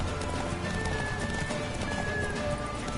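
Hooves of the horse Roach from The Witcher III clip-clop in a steady rapid gait, layered over a dense game soundscape with a faint tonal hum.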